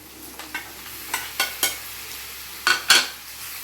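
Ridge gourd pieces stirred through a hot pan for a milk-based curry, a few light sizzles and sharp scrapes of a spoon against metal breaking out irregularly, the busiest pair near the end, with no talking.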